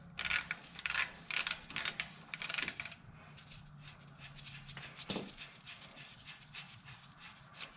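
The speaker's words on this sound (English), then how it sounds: "We're going to put that onto our ratchet, and we're going to break that loose like so." Hand ratchet fitted with a 19 mm socket clicks in quick bursts while breaking a bolt loose on a Lexus GX470 front suspension, followed by a single sharp metallic knock and quieter handling noise, close by.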